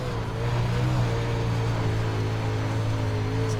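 A race car engine drones steadily on the Charlotte dirt track in the iRacing simulator, a sustained close hum with a low fundamental and stacked harmonics, no revving swells, and no talk.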